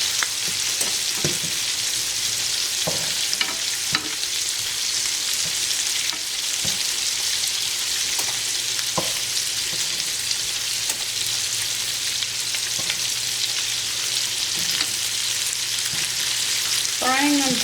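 Steady, dense sizzle of meatballs frying in a pan, close and continuous, with occasional soft clicks and scrapes of stirring.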